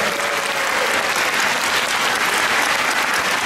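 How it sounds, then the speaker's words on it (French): A church congregation applauding God during a French-language service, dense steady clapping filling the room at full volume throughout. "On applaudit Dieu."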